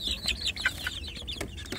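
Newly hatched native village chicks in a brooding box peep in quick, high, overlapping chirps, close and fairly soft, with no talking.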